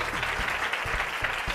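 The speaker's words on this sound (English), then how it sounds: "So for everybody in here that loves the Lord, clap your hands." An audience at a gospel variety show claps together in a steady, fairly fast rhythm. The applause is full and continuous and fills the whole room.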